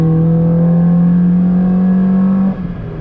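A manual Honda Civic EK climbs a hill in a low gear, its engine holding a steady droning hum heard up close from inside, then easing off as the throttle lifts near the end.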